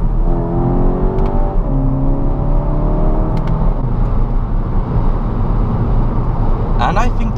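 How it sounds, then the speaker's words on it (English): A 2014 Skoda Octavia RS TSI DSG engine hums and revs in a steady, full drone, enhanced through the car's speakers, its pitch rising in smooth sweeps, with a voice speaking over it. "you get this fabulous enhanced engine noise through the Canton speakers"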